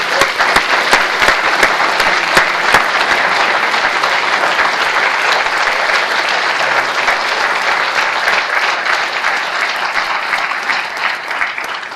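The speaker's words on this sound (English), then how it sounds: "maybe we can all applaud Dr. Vanderhoef" An outdoor audience at a university commons groundbreaking ceremony applauds steadily and loudly for about twelve seconds, dense sustained clapping close by with no talking.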